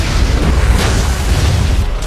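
A powerful anime energy shot blasts through a giant kaiju's body, a dense, sustained booming roar with heavy low rumble that holds loud and steady for about two seconds, like a continuous explosion with no voices.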